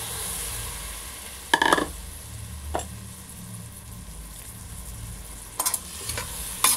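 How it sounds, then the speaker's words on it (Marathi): Three washed lentils sautéed with salt in a pan for idli and dosa batter, a steady soft sizzle with occasional scraping clinks of a spoon stirring, close and without talk. "हे छान आपण 1 मिनिट परतून घेणार आहोत, जेणेकरून आपल्या डाळी लवकर शिजतील।"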